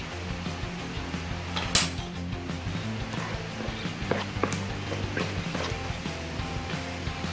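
Batter for Korean corn dogs is stirred until smooth. A utensil scrapes and taps steadily against the bowl with small clicks, fairly quiet over a low room hum.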